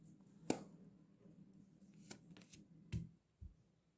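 Tarot cards being shuffled, a few crisp riffling bursts spaced apart over a low background hum, fairly faint and close.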